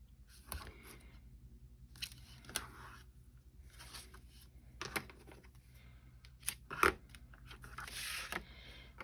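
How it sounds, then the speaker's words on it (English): Scissors snip through tape while a custom paper envelope is made, giving several short, crisp cuts spaced a second or two apart against a quiet room with faint handling noises. "I like to give it a little snip so that that edge is nice and straight"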